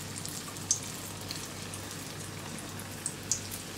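Kandarappam frying in hot oil gives a soft, steady hiss dotted with a few faint pops and crackles, all fairly quiet throughout.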